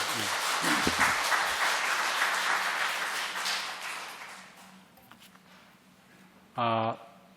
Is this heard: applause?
yes